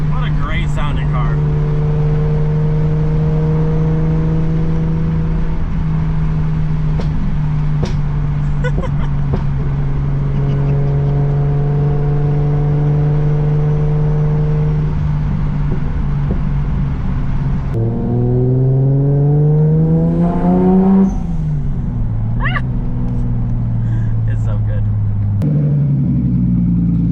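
A Volkswagen Corrado engine runs loud and close with a deep, throbbing idle, then revs up and drops back a couple of times toward the end.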